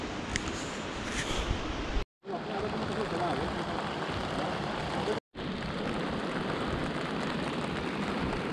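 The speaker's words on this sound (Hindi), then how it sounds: "भीम द्वारी से ऊपर चढ़ते हुए बारिश, ये बारिश में हमने ग्लेशियर पार किया है" Steady rain falling on a mountain trek above Bhim Dwari on the Shrikhand Mahadev route: a continuous dense hiss of drops, broken by two brief silent cuts.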